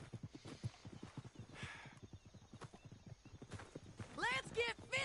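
Hooves clip-clop in a quick walking rhythm in the Red Dead Redemption 2 western video game, joined near the end by a loud horse whinny, with character voices talking over the hoofbeats.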